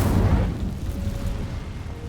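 A fiery burst from the Incendio spell in the Hogwarts Legacy video game, a loud whooshing blast at the start that settles into a low, fading roar.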